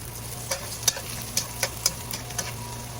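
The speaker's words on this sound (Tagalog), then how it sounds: "mag-gisa na po tayo ng bawang" Garlic sautéing in a pan, a soft steady sizzle under a low hum, with about six light scrapes and ticks from a spatula spaced across a few seconds, close and without talk.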